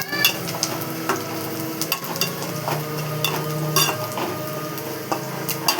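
Turmeric frying slowly in oil over low heat, giving a steady soft sizzle with scattered clicks and light scraping of a pan, continuous and close with no voices.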